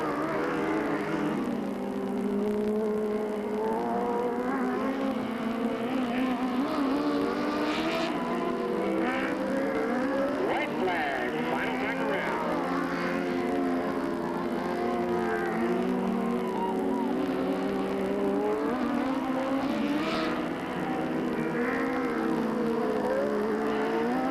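Race cars roar around the Delta Speedway oval during a 1997 event, a continuous loud engine drone with rising and falling passes as cars circle the track, heard without talk.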